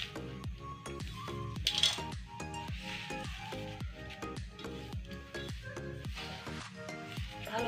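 Dried neem leaves are stirred in a hot iron wok with a metal spatula, making a steady run of close, rhythmic scraping clinks against the pan with a light sizzle underneath and no talking.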